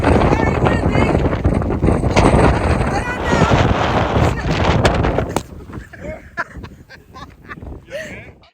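Strong gusting wind on a hiking trail at Mission Peak (O'Melveny) buffets the microphone with a loud, dense roar, easing noticeably toward the end as quieter rustles and faint voices come through.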